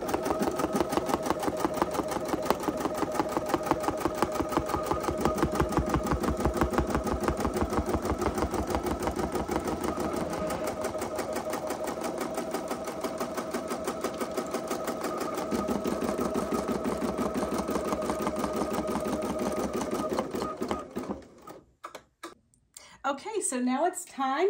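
An embroidery sewing machine bastes stitches around the perimeter of a Dresden Plate quilt block, running in a steady rapid whir for about twenty seconds before stopping.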